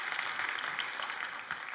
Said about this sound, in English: So let's give a round of applause to Aaron and Becca.